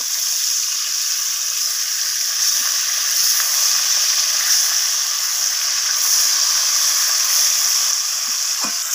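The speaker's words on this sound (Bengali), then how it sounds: "তো অপর পিসটাও আমি এইভাবে উল্টে নিয়ে ভেজে নেব।" Pieces of surmai fish fry in hot oil, giving a steady, close, even sizzle with small crackles and no talking.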